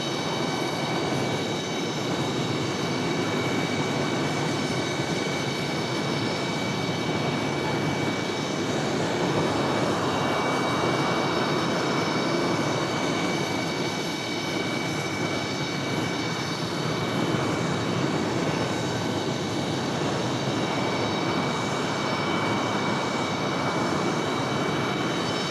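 Frontier jet airliner engines drone on the runway at Raleigh-Durham airport, a steady, loud, broadband roar with whining tones that holds for the whole stretch.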